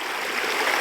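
Steady, hissing rush of a shallow stream at Glenashdale Burn near Whiting Bay on a snowy, dry day; continuous broadband water noise heard close, with no voices.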